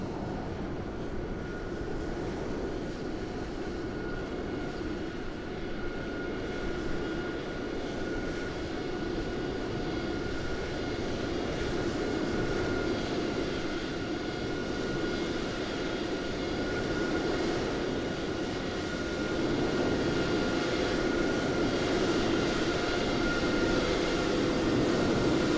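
Steady airliner engine roar from a flight simulator landing during a VATSIM Cross The Pond online event, droning continuously and fairly loud with no talk over it.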